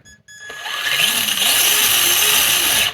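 A remote control car's electric motor spins up after a brief click, whining loud and steady with rising and falling pitch for a couple of seconds before cutting off.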